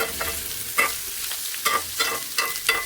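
Vegetables and onion stir-frying for fried rice, with a ladle scraping the pan in rhythmic strokes about every half second over a steady sizzle, near and clear, with no speech.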